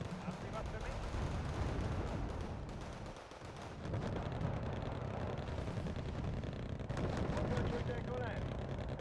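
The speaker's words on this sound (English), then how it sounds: "Getting fired back at by something." Incoming gunfire in the Wargame: Red Dragon strategy game, a steady wash of distant cannon and gun reports rumbling under ongoing battle noise, briefly dipping before resuming at full density.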